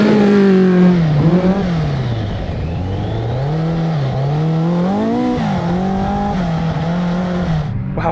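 A 1000cc trophy truck kart accelerates hard on a Grand Prix race lap, its engine revving up and down loudly through gear changes with a raspy, continuous close-up drone.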